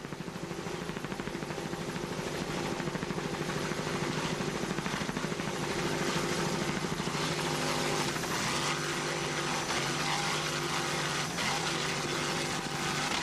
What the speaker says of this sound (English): Nice throttling job there. Bill McComb, as you can hear, that Thunderstruck inboard